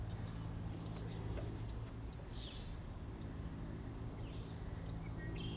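Scattered bird chirps and whistles ring out in a park over a soft, steady outdoor hum, with no one speaking.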